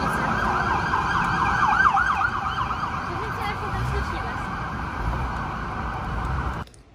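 A loud, close wailing siren from passing fire engines and police cars sweeps up and down continuously over road traffic noise, then cuts off abruptly at the end.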